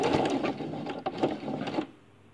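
Sewing machine running a straight stitch through fabric for a reusable makeup-removal wipe: fast, even mechanical chatter close by that stops abruptly near the end, with no talking.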